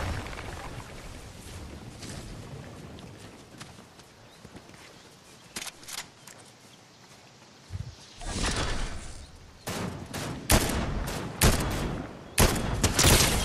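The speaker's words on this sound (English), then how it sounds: "we're getting shot at" Rapid bursts of video game gunfire crackle through a multiplayer match, with sharp volleys growing louder and denser toward the end, layered over a steady background rumble.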